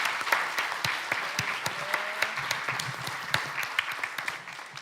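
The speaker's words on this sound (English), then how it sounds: "A round of applause for these superheroes." Audience at a festival panel applauding, a steady wash of many hands clapping with scattered sharper claps and faint voices underneath.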